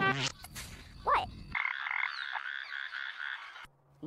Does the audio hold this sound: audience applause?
no